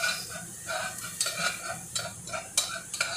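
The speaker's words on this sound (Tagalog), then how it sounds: "Palutuin natin yung pangkatang sibuyas." Chopped onions sautéing in a pan, with a steady bright sizzle broken by repeated scraping stir strokes and small utensil clicks, close up and moderately loud, no talking.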